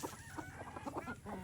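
Desi hens cluck softly in a quick irregular series, fairly faint against a quiet farmyard background.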